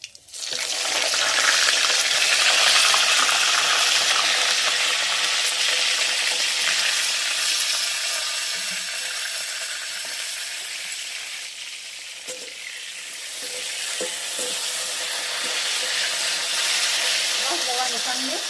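Brinjal pieces frying in hot oil with mustard seeds, a steady loud sizzle and hiss that runs throughout with a few stirring clicks, dipping slightly midway before swelling again.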